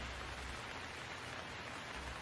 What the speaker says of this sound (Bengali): নদী এখন খুব উত্তাল, প্রবল বৃষ্টিও হচ্ছে।